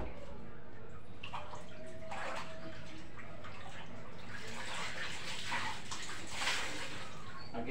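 Laundry being washed by hand in a basin of water, with soft splashing, sloshing and drips coming in irregular bursts, close and fairly quiet, growing busier toward the end.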